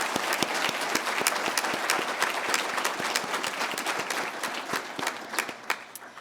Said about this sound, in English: give a round of applause to Dr. Catherine Young